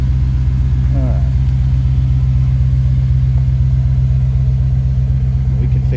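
A 1987 Chevrolet R10 short-bed pickup idles steadily with its tailpipes cut off past the mufflers, a deep, even rumble that stays loud and close the whole time, with voices talking briefly over it.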